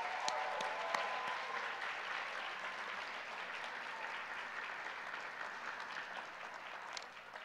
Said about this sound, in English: let's give a big round of applause to all of our finalists